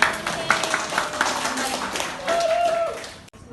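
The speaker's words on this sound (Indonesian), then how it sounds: "Tepuk tangan dulu buat kita semua." Children clap together in a classroom lesson, a few sharp claps standing out over a busy wash of young voices and cheering, fairly close and loud before cutting off abruptly near the end.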